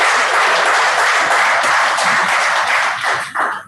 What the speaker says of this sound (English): Please, ladies and gentlemen, applause.